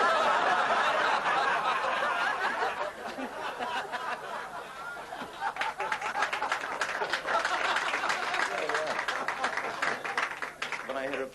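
Applause and laughter from a comedy show audience, loud and dense at first, then thinning to scattered claps and chuckles before swelling again toward the end.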